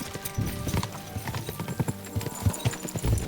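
Horse hooves clip-clopping in the video game Kingdom Come Deliverance 2, a steady run of uneven thudding beats on a bumpy path with occasional snorts, fairly close and continuous.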